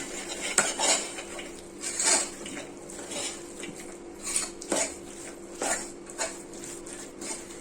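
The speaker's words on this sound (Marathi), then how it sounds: "आणि आता मी ह्याच्यामध्ये टाकणार आहे आपले राजमा. परतून घेणार आहे व्यवस्थित." Soaked kidney beans (rajma) being sautéed in a pan, stirred with a metal spoon that gives repeated close scraping clinks and knocks against the pan over a faint sizzle.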